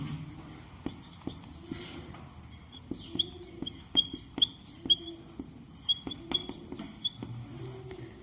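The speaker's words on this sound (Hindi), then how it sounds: "उसकी पक्षी की आवाज़ मत सुनो, इधर ध्यान दो।" Bird calling in the background during a maths lecture: short high chirps repeat irregularly and faintly behind soft tapping and thumping noises, with a few brief clicks and no clear talk.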